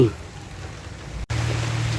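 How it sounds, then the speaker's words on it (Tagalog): Heavy rain pours down in the countryside during a typhoon, a steady broadband hiss of drops on surfaces that briefly cuts out and then resumes with a low hum beneath it. "nabutan na tayo ng ulan"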